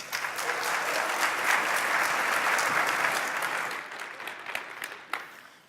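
Audience applause at a PyCon 2017 conference talk, a dense steady wash of many hands clapping that swells and then thins out into scattered claps toward the end.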